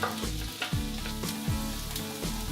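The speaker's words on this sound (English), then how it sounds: "Start frying our onions" Chopped onions and garlic frying in oil in a pan over high heat, a dense continuous sizzle with a few stirring scrapes, close and steady with no speech.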